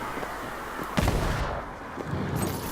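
Gunfire in the Warhammer Vermintide video game, a handgun shot landing as a sharp boom near the middle, with a further fainter report following, over a steady din of game background noise.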